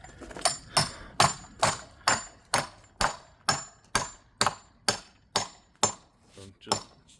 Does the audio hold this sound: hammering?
yes